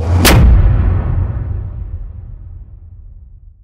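Finished cinematic whoosh-hit sound effect, bounced down: one punchy, heavy impact with a sharp crack up front, then a long, deep rumbling decay that fades slowly, loud and alone.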